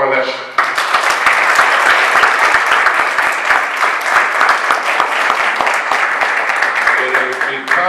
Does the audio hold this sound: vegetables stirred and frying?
no